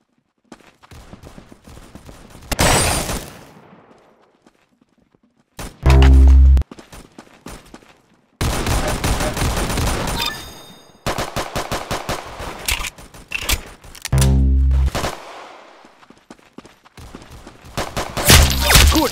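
Gunfire in the Roblox game Arsenal, loud bursts of rapid shots and single heavy blasts separated by short silences, with some scraping mechanical sounds between them and no talk.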